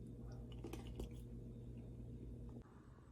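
Chewing boiled radish close up, soft moist squishing and a few crisp bites in quick succession, quiet and intimate with no talk.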